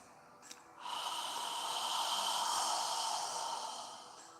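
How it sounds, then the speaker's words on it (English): A slow, sustained exhale during a yoga breathing exercise, a soft, breathy rush of air lasting several seconds, close to the microphone and fading out gently, following a brief faint sound, with no talking. "As you exhale, imagine you're fogging a mirror with your breath."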